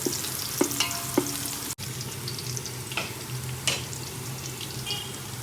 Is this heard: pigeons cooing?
no